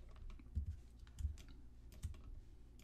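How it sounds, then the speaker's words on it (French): Keys clatter on a computer keyboard as a number and Enter are typed, a few soft close clicks and low thumps in quick succession, quiet and alone. "Entrez au clavier 12, suivi de la touche entrée."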